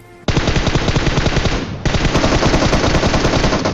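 Dense automatic gunfire from PUBG Mobile on the Erangel map, loud and continuous after a brief pause, a rapid burst stopping for a moment then resuming in sustained fire.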